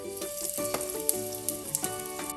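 Mustard seeds, cloves, green cardamom and a pinch of hing sizzle in hot oil in a pan, a steady close crackle with scattered sharp pops over a faint musical background.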